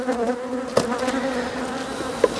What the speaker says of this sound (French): voilà à quoi ressemble une ruche bourdonneuse